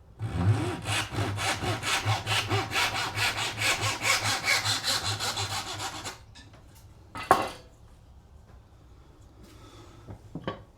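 A hand saw cuts wood for a molding plane wedge with rapid, rhythmic back-and-forth strokes for about six seconds, then stops, followed by a few faint knocks and handling sounds.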